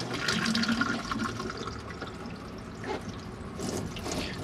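Water runs steadily into a drop-down sink in an Auto Trail Tribute T670 motorhome, a continuous splashing flow at moderate level with slight swells, no voices.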